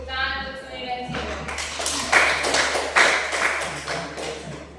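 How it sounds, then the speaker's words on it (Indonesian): Classroom applause for two students after a group presentation, starting after a brief tonal sound, then a scattered, moderately loud patter of hand claps with sharp individual taps and a hum underneath. "Tepuk tangan untuk Suni dan Sio."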